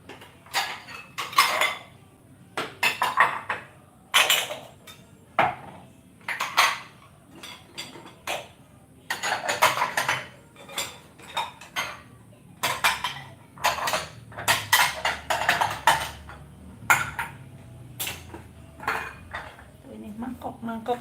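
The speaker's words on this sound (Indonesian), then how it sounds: "Ini mangkok sama piring-piring." Bowls and plates clink and clatter as they are tidied and stacked during morning housework, a steady run of sharp, close ceramic knocks spread across the whole stretch, with faint voices now and then.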